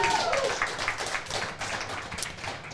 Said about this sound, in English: the round of applause for our Period 1 guest, Bulls head coach Chris Wilhite